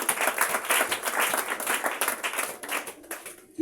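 A church congregation applauding, dense steady clapping from many hands that thins out near the end.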